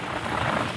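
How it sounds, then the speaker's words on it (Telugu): Heavy rain with strong wind in a thunderstorm at a house being built, a loud continuous hissing downpour, brief and without voices. "శబ్దం చూడండి, ఉరుము చిన్నగా రావట్లేదు."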